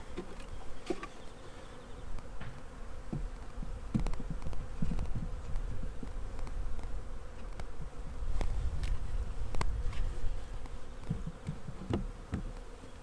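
Steady buzzing of many honeybees close by, a dense droning hum with individual bees passing near, no voices.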